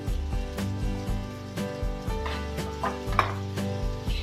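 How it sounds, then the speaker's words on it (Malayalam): A spatula clinks and scrapes rhythmically against a pan as chopped ingredients for egg bhurji, salted, are sautéed over a low flame. The quick, close tapping and stirring comes with no audible sizzle. "ലോ ഫ്ലെയിമിൽ ഇട്ട് തന്നെ നമുക്കൊരു 2 മിനിറ്റും കൂടി ഒന്ന് വഴറ്റാം"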